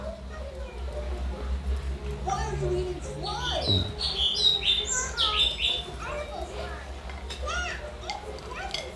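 Lovebirds chirp and tweet in quick, high bursts against a busy background of children's voices and low hum, moderately loud throughout.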